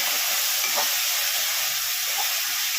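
Ginger-garlic paste fries in a pan over lowered gas heat for an echor chingri dish, giving a steady close hiss and faint crackle throughout, with a soft scrape or two and no voices.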